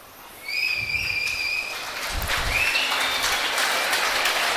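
An audience at a motivational speech breaks into applause that swells after a quiet start and holds steady. A few sharp whistles cut through early on, and a low thump lands midway.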